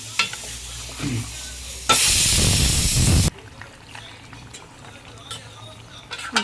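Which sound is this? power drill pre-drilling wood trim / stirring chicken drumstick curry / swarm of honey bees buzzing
stirring chicken drumstick curry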